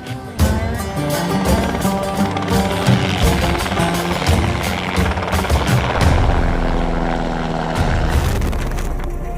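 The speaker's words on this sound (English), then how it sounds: "A chopper in the sky, catchers ready to pounce below." A helicopter flies low over a buffalo catch in the Northern Territory, its rotor chop thudding in rapid rhythm over roaring engine noise, with bangs and rattling from the vehicles and activity below.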